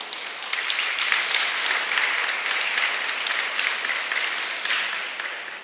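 A church congregation breaks into steady, broad applause during a sermon, a dense wash of many hands clapping at even loudness before cutting off abruptly.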